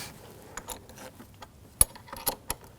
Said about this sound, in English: Tighten down the nut.